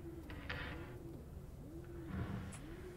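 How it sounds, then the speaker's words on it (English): Repeated low pigeon coos roll in two or three wavering phrases, faint and murky against a background hum inside the horror game Summer of '58: Haunting Shadows, with a couple of light clicks between calls. "There's a pigeon. I know that much."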